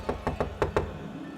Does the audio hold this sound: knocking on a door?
yes